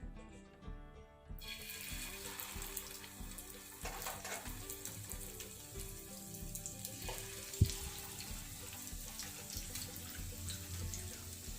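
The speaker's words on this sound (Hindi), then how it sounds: "ऑयल गर्म हो चुका है, अब हम इसमें चपली कबाब डाल देंगे।" Chicken chapli kababs frying in hot oil, a continuous close crackling sizzle that holds steady throughout with one sharp clink partway, no talking.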